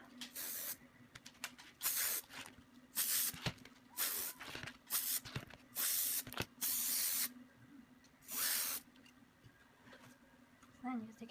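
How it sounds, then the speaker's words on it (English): An aerosol can of spray adhesive sprays in a series of short hissing bursts, close up, separated by brief pauses and light handling noises. "so I'm just going to spray the top of here."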